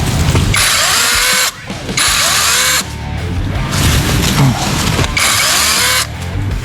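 A loud Procraft power saw, held one-handed, buzzes in short bursts, cutting through something small with brief pauses between runs, close and harsh.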